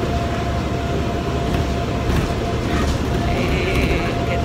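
A New Orleans RTA streetcar rolls along with a steady, loud rumble and rattle of the car body over the track, constant throughout, with a little faint background voice.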